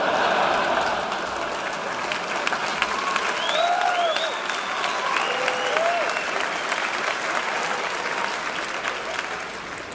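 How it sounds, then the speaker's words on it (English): Steady applause from a stand-up comedy audience fills the room, dense and sustained with a few whoops and cheers rising above the clapping. "Yeah, clap it up."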